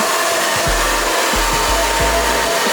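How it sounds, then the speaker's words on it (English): A barber's hair dryer blows steadily and loudly at close range, its airflow shifting as it moves across the sides of a client's head during a tight fade haircut, with no talking. "So I'm just going to dry off the sides."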